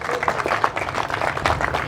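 Crowd applause at a political convention, a brief, moderately loud patter of many hands clapping with uneven bursts and no clear rhythm.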